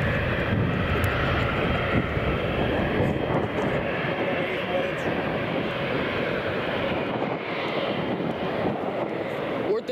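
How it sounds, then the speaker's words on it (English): Jet airliners at San Francisco International Airport, a loud, continuous broadband engine roar that holds steady throughout, with people talking faintly beneath it. "Oh, what was that? That's planes."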